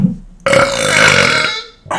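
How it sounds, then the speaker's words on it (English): A single loud, close burp lasting over a second, deep and raspy with a rising buzz, from a man drinking beer while reviewing comic books; no talking. "Is there going to be a burp every episode?"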